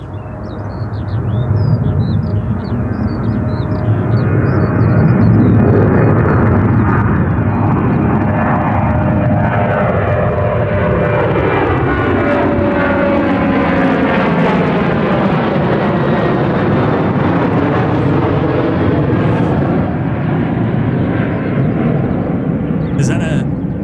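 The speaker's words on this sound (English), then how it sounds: "Is that a British Airways 777?" A British Airways Boeing 777 airliner comes in to land at London Gatwick, its loud jet roar rising and sweeping steadily across the whole stretch, with someone talking over it.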